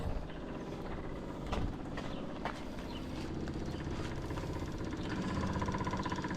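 A fuel pump feeding a Chevy Vega runs with a steady, busy mechanical ticking and whirring, close up, holding at an even level throughout with no voices.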